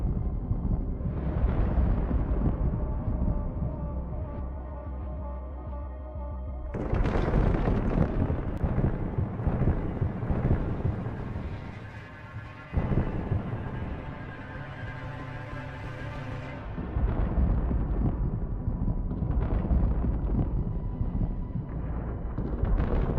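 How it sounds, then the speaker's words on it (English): TOS-1A thermobaric multiple rocket launcher detonating from munitions on board, a long sustained rumbling roar with bursts of crackling blasts, surging loud in waves with short dips, no voices. "ultimately detonating due to the thermobaric munitions on board"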